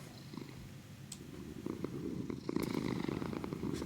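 Recently fed cats purr in a low, steady, faint rumble with soft clicks and small rustles mixed in.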